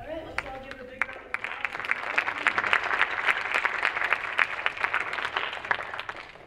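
A panel audience breaks into applause, scattered claps at first swelling into a dense, sustained round of many hands, with some voices underneath.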